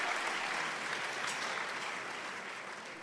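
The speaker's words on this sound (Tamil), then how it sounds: "ஒரு நல்ல அரங்கம் நிறைந்த கைத்தட்டல் கொடுங்க." Dense, sustained applause fills an auditorium at a dance awards show, a steady broadband wash of clapping that stays loud throughout and eases off only slightly toward the end.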